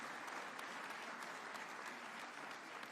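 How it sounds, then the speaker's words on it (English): An audience at a large conference gives sustained applause, a dense, even patter of many hands clapping at a distance, steady throughout without voices standing out. "another hearty, warm clap for Sir Mo Ibrahim and His Excellency, the President, Dr. William Samoei Ruto."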